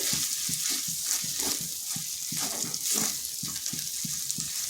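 Spices with turmeric and chili powder sizzle in hot oil for a vegetarian bottle gourd curry, a continuous close frying hiss broken by regular scraping pulses of stirring.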